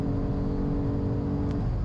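A BMW M car engine on a race track lap drones loud and steady from inside the car, a sustained low harmonic growl as it pulls hard under acceleration, with no speech over it.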